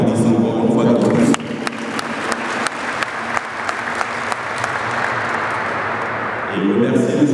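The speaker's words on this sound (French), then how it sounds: "j'aimerais qu'on applaudisse encore une fois de plus" An indoor audience at an African Sport Day event claps loudly for several seconds in dense, sustained applause, with a speaker's voice briefly heard before and after it.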